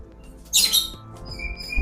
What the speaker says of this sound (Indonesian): ini kita liatin nih burung kacer Mas Ulip nih, Katsumi ya